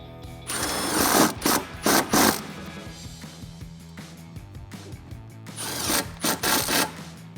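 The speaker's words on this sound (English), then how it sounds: "And then you can tighten down these band clamps on the air filter side." Band clamps are tightened on the rubber coupler of an Airaid MXP cold air intake on a 5.3L Silverado or Sierra, heard as bursts of close ratcheting and scraping tool noise in two separate clusters.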